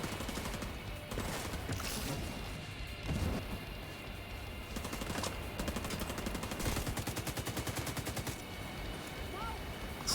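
Sniper fire in The Division 2 during a firefight, repeated sharp gunshots and rattling bursts with crashes in a dense, continuous combat din, with voices speaking over it.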